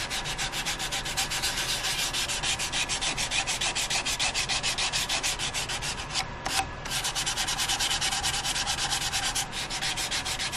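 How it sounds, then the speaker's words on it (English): Steady, continuous hand sanding with 400-grit sandpaper on a turned wooden hollowform, a dense scratchy rubbing in quick back-and-forth strokes with one brief pause, close and fairly loud. "we will hit it with the 400 grit and knock it right back"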